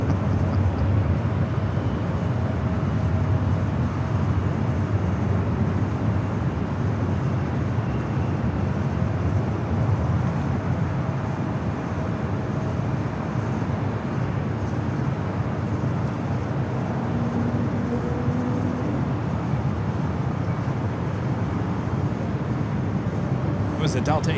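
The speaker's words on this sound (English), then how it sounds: "The Delta A319 heading to Houston, Texas, flight 1287." A Delta Airbus A319 airliner at Los Angeles LAX airport gives a steady, broad jet roar at middle distance that continues throughout, with a faint voice talking at times beneath it.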